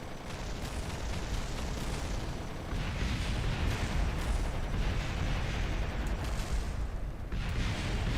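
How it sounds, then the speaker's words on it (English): M230 chain guns in Kerbal Space Program with BD Armory hammer out continuous rapid heavy fire, mixed with booming impacts, dense and loud throughout. "Let's get some M230 chain guns going"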